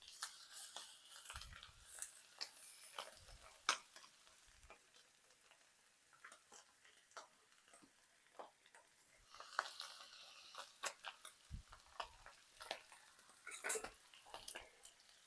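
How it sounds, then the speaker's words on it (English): Shredded cabbage and carrots are stirred in a frying pan, with soft scraping and clinks of a utensil over a faint sizzle, close by and fairly quiet, in irregular bursts throughout. "I'm going to mix this up just a little bit. Get some of that cabbage towards the bottom."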